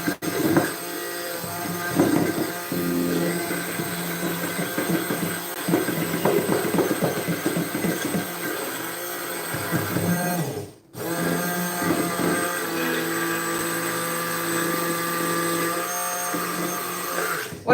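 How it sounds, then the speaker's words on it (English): An immersion blender whirs through a chicken ranch mixture for wraps, a continuous buzzing motor with uneven chopping pulses, briefly cutting out for a moment before running steadily again. "as you're blending with your immersion blender"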